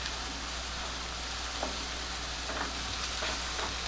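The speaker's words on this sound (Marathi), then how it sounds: "एक टेबलस्पून आलं आणि लसूण असं जाडसर जरा वाटून घेतलंय ते घालते आणि ते पण कांद्याबरोबर परतून घेऊया" Coarsely ground ginger-garlic paste sautéing with onions in a pan for mushroom kheema, a dense continuous sizzle like light rain with faint stirring clicks, close and even throughout, no voices.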